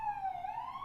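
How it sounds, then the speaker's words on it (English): A police siren wails in a single sustained tone that slowly dips and rises as it passes, moderately loud and alone. "sorry, I have a siren passing by me."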